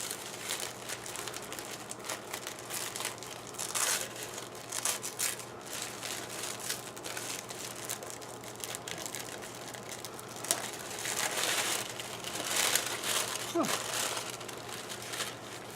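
Wrapped candles are unwrapped from tissue paper, with ongoing soft crinkling, rustling and tearing at close range and a few louder crumples. A voice talks quietly now and then.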